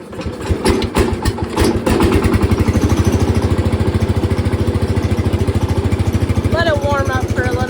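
A 1988 Sea-Doo SP 580 jet ski two-stroke engine sputters, catches and settles into a steady, loud, buzzing run at half throttle with the choke out; someone speaks briefly near the end.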